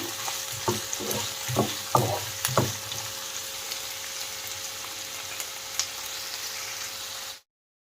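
Onions are frying in hot oil with a constant close sizzle, broken early by several soft knocks of stirring, then the sound continues steadily before cutting off abruptly into silence.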